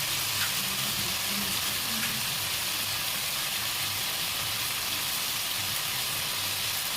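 Flaxseeds fry in oil in a pan for a flaxseed chutney, giving a steady, dense crackling sizzle that continues evenly throughout with no voices.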